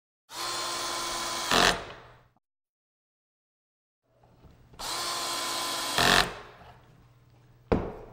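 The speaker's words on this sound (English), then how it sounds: "as soon as I drive that screw, this joint's ready to go" A power drill drives a pocket hole screw into a wood joint in two steady whirring bursts that build to a strained peak as the screw seats, followed by a short final spin.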